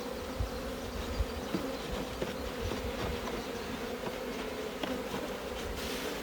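Honeybees from a newly installed package buzz steadily in and around an open hive, a dense continuous hum close by with small bumps and frame handling knocks, no talking.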